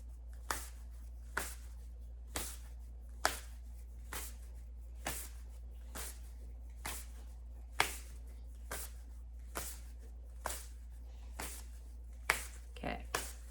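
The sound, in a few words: shuffling animal guide cards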